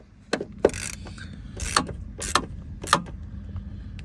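A T40 Torx fastener on a Ford Transit Mk8 door is tightened with a ratcheting tool, giving four or five short, sharp metallic clicks spaced about half a second apart against a quiet background.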